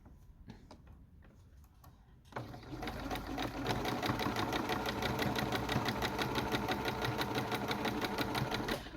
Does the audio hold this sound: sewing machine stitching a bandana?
yes